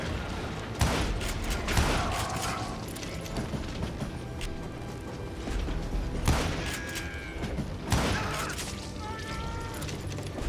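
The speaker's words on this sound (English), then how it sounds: "Didn't realize I could just shoot these planks out." Gunfire in the Western shooter video game Call of Juarez Gunslinger, several sharp shots spread across the clip over a dense, busy game soundscape with clattering mechanisms and impacts.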